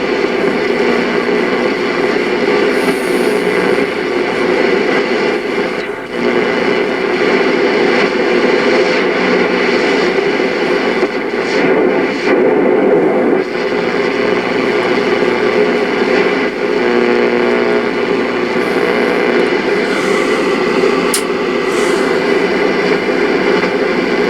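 A Hammarlund HQ-140X shortwave receiver gives a dense, steady wash of static and hiss throughout, with a fluctuating tonal hum and occasional crackles and brief dropouts.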